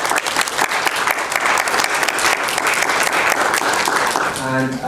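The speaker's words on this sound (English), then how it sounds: "Please join me to give a round of applause to Paul" An audience at a public health seminar applauds steadily to welcome a presenter, dense clapping filling the room at an even level throughout, with a voice speaking briefly near the end.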